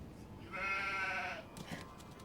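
A sheep bleats once in the Nancy Drew game The Haunting of Castle Malloy, a single drawn-out call of about a second, fairly close and alone over quiet ambience.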